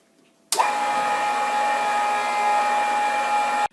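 A Simac 700 pasta machine kneading flour dough starts abruptly and runs as a steady, loud motor whine with a constant hum that holds evenly until it cuts off.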